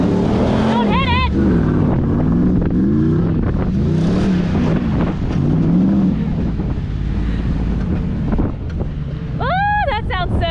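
Hemi-powered Jeep revving off-road, engine swells and drops in loud bursts under wind buffeting, with voices talking and shouting over it throughout.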